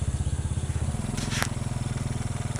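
A motorcycle engine idles with a steady rapid pulsing, then opens up as the bike pulls away, with a short scraping burst in the middle; near and fairly loud, no talking.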